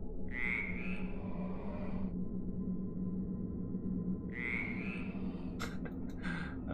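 Two drawn-out frog croaks from the video game Dark Echo, each about two seconds long and separated by a low steady hum, with a few brief clicks near the end and no talk.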